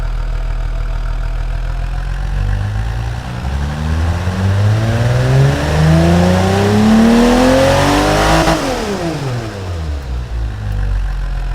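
Simulated German RB20DET M50B20 turbo engine in the Automation game revs steadily upward from a low, diesel-like grumble, climbs to a loud peak, then drops sharply before settling back, with no voices.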